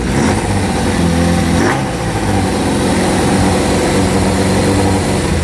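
A Suzuki GSX-R 750 motorcycle that had been standing unused, with a newly fitted throttle cable, runs loud and close with a steady engine drone and a slight rise in revs, no voices.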